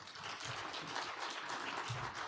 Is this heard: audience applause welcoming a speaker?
yes